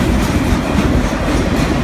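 A Union Pacific C45AC locomotive hauls a train past at close range, its steady heavy rumble and rolling wheel clatter filling the scene loudly and continuously without voices.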